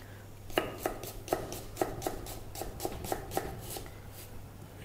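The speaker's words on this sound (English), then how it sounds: "Now onion chop." A knife chops an onion on a cutting board for stuffed chilli bajji, about ten crisp, evenly spaced taps coming close and clear with a faint hum behind them.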